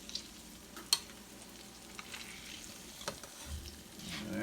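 Salmon fillet cooking in a hot pan with vegetables, flipped over with tongs: a soft, low sizzle runs steadily throughout, broken by one sharp click near the start as the fish is turned.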